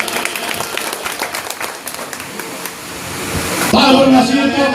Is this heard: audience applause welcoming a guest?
yes